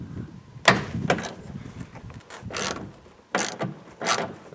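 A ratchet works a T47 Torx bolt loose from a Jeep seat belt bracket during headliner removal, giving several close, sharp bursts of clicking with short pauses between them.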